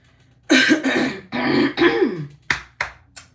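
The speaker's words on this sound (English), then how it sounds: "oh, I can't clear my throat." Someone repeatedly clears their throat up close, a series of raspy, effortful bursts ending in a few short, sharp coughs.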